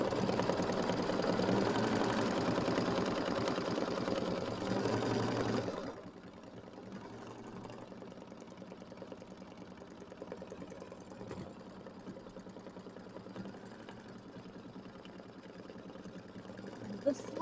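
Sewing machine stitching down a quilt block, a steady, fast mechanical hum and rattle for about six seconds, then stopping and leaving a quiet room with faint handling sounds.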